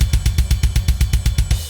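A programmed blast beat plays about a dozen evenly spaced, machine-tight kick and snare hits with a ride cymbal ringing over them, quantized to a grid and heard alone.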